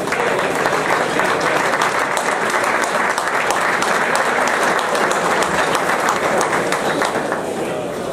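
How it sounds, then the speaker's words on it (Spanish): Sustained applause from an audience at a youth football awards ceremony as a standout player steps up for his medal, steady clapping filling the whole stretch with some talk mixed in. "El aplauso para Pablo, que se acerca a recibir la corre"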